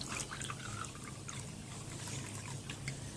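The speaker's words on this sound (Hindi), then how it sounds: "इसके बाद आपने ये जो नमक मैंने लिया है साल्ट, इसके अंदर आपने पानी डालना है।" Water is poured into a bowl of salt to mix a face scrub, a steady close trickle and splash lasting a few seconds with no talking.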